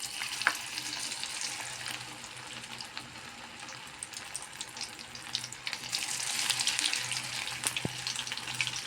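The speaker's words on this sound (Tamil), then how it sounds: "இப்போ வந்து நம்ம கொஞ்சமாக இந்த மீல் மேக்கரை நம்ம கொஞ்சம் கொஞ்சமாக சேர்த்து ஃப்ரை பண்ணிக்கலாம்" Soya chunks, meal maker, fry in hot oil with a soft continuous sizzle, fairly quiet and close, swelling a little toward the end with an occasional faint clink; no one speaks.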